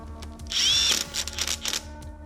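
A power tool briefly whirs while tightening the bolts on a transmission solenoid, a short loud burst followed by a few quieter ratcheting pulses, close up with no talk.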